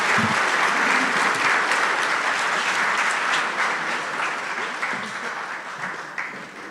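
An audience at the Barber Vintage Motorsports Museum applauds to welcome a speaker to the stage, dense sustained clapping from a crowd that slowly tapers off toward the end.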